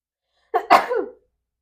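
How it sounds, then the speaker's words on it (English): A single sharp human sneeze bursts out close and loud, a short intake followed by an explosive burst lasting about half a second, with silence before and after. "I just sneeze."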